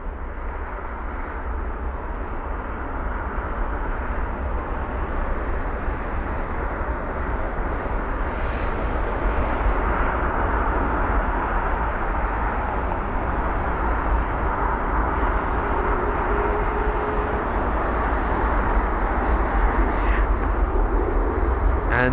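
A United jet at London Heathrow, its engines freshly started and taxiing, makes a steady, loud broadband roar and rumble that holds without break from a moderate distance.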